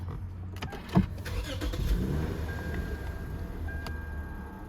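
A click of a start-stop button followed by a 2005 Lexus GS 300 engine cranking and catching, then settling into a low idle hum.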